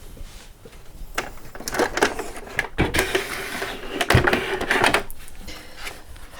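A sewing machine stitches denim doll jeans in short bursts, whirring and clattering in uneven runs with pauses and small knocks of handling between them, close by and without talk.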